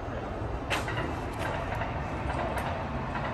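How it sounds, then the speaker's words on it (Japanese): A steady rumbling roar of a passing train in Nara, Japan, with faint mechanical clanks and brief high squeals over the continuous noise. "電車の音するよ。"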